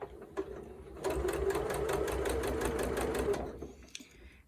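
A sewing machine stitches a curved orange peel quilt block in one continuous run of rapid, even needle strokes lasting about two and a half seconds, starting and stopping cleanly with faint handling sounds around it.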